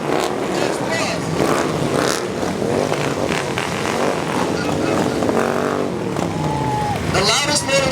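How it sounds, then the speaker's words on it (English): Loud motorcycles rumbling and revving in a Veterans Day parade in San Jose, engines roaring close by while someone talks over them. "The loudest motorcycle in San Jose was Lightyear."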